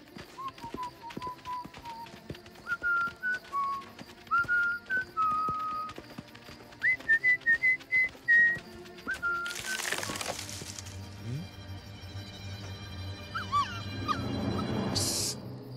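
A thin, wavering eerie whistle plays a slow series of held notes in a cartoon, then a sharp burst of noise cuts in, followed by a few faint chirps.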